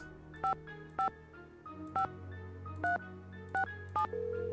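Telephone keypad dialing in a Nancy Drew video game: a sequence of short, evenly spaced DTMF key tones, about seven beeps over a few seconds, clear and alone with no talk, ending as a steady tone begins.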